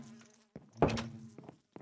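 Bees buzzing in the Minecraft Productive Bees mod, a few short game buzzes with soft knocks, the strongest burst in the middle, fairly quiet and with no talk.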